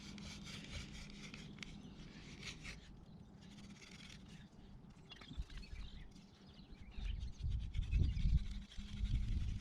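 A wooden hand drill spindle rubbing against a wooden fireboard for friction fire-making, heard as a steady close scraping and rubbing that grows louder and rougher toward the end, no voices.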